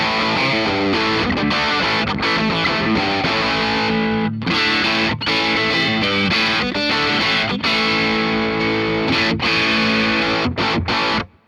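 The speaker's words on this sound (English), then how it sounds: "A little bit of Tele, a little bit of Stratocaster, a little bit of really heavy, dark humbucker." Electric guitar played through a heavily distorted, dark, thick humbucker-style tone on a Telecaster, loud and sustained chords and riffs ringing continuously with brief breaks before cutting off at the end.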